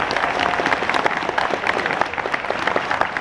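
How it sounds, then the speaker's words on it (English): Convention audience applauding David Prowse, Darth Vader actor, at a sci-fi convention in Sweden; dense, steady clapping from a crowd fills the room throughout. "Big applause to David Prowse."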